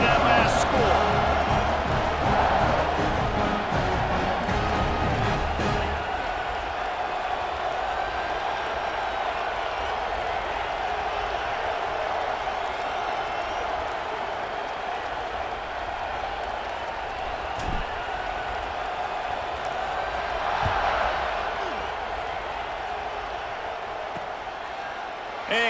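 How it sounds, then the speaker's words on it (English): A stadium crowd in EA Sports College Football 26 buzzes steadily after a score, a loud, continuous roar of voices and applause that swells slightly near the end, with a commentator talking over it. "this crowd is buzzing after that last score"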